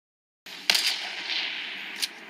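Gunfire in the video game Fortnite: a sharp distant shot followed by a hissing tail and a second fainter shot, set against quiet game ambience with no talking.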